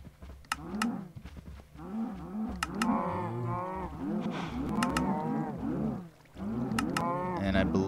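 Cows in a Minecraft FTB modpack game moo in a rapid overlapping chorus of repeated, fairly loud calls, mixed with sharp clicking game sounds and brief quieter gaps.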